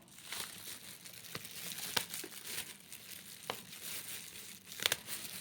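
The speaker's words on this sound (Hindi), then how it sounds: "पॉलीथीन की गांठ ऐसे बांधे थे कि दांत ही काम आते हैं, फिर हाथ तो खुलते ही नहीं है।" A knotted polythene shopping bag crinkles and rustles close by as its tight knot is worked open, with scattered sharp crackles and a few louder snaps over several seconds.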